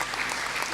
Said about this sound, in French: Nous allons acclamer le Seigneur.